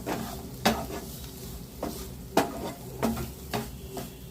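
Cauliflower stir-fry sizzles in a pan while a utensil scrapes and knocks against the metal in repeated strokes, about one every second, close and fairly loud over a continuous frying hiss.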